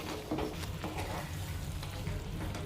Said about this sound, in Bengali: এবার ভালো করে সবকিছু আবার নেড়ে চেড়ে মিশিয়ে নেবে